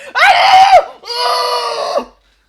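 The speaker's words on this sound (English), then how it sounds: "that does hit her as she screams as you burn her alive" A female character in a video game screams while being burned alive: two loud, long anguished shrieks in close succession, each lasting about a second, then silence.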